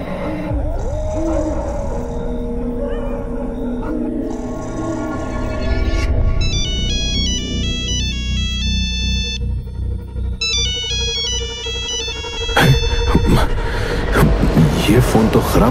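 An electronic phone ringtone chimes in repeating melodic bursts over a low droning background, with a sharp clatter near the end.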